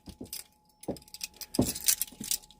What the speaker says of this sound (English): That's my car keys.